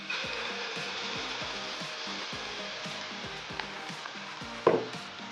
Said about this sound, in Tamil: இப்போ அதில் நம்ம மிக்ஸ் பண்ணி வச்சுருக்கிற ஆம்லெட் மிக்ஸை இதில் ஊற்றிக்கலாம்.